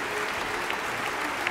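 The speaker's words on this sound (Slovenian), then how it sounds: "Aplavz" A concert audience applauds in the Slovenian Philharmonic's New Year's concert hall at Cankarjev dom after an encore march from Prokofiev's The Love for Three Oranges, a dense, steady clapping filling the hall.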